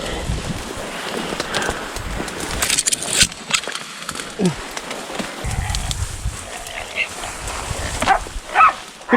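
Hunting dogs out in the bush bark and yip in bursts close by, with whimpering between, while someone talks and calls over them.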